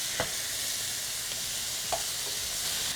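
A pound and a half of 85/15 ground beef browning in a pan, giving a steady, close sizzle with occasional soft stirring scrapes and taps from the utensil.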